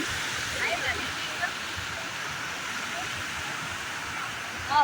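A waterfall with heavy flow rushes steadily at moderate distance, an even, unbroken wash of water noise throughout.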